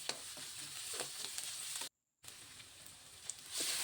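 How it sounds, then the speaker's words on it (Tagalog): Onion, garlic and ginger sautéing in oil in a pan for squid adobo, a steady close sizzle with crackles and stirring, broken by a brief moment of silence midway. "Igigisa lang natin yung ating sibuyas, yung ating bawang, yung ating luya"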